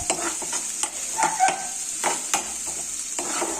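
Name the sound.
onions frying and being stirred in a pan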